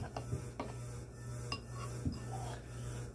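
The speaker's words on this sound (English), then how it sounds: "we're gonna do here is just stir this up" Oatmeal is stirred in a pot, with faint scrapes and light clinks of a utensil against the pot over a steady low fan hum.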